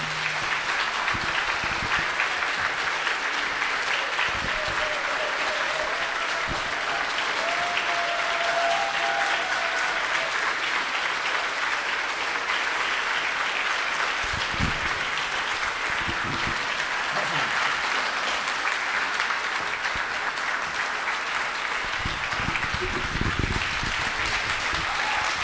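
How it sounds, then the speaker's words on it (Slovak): A large outdoor rally crowd in Trnava, Slovakia, greets politician Ivan Korčok with sustained, dense applause that holds loud and steady for about twenty-five seconds, with faint voices mixed into the clapping. "tak ho privítajme veľkým potleskom"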